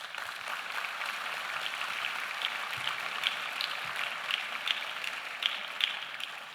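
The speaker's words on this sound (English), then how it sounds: "Please give yourselves a round of applause." Steady, fairly faint applause from the audience at a Washington Youth Challenge Academy commencement, an even wash of clapping continuing throughout with no talking.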